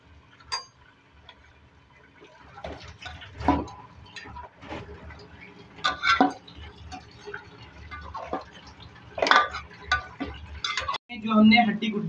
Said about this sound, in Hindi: दही और प्याज का मिक्सचर बनाया है मिक्स करके इसको भी इसमें ऐड करके और इसके साथ मिक्स करेंगे।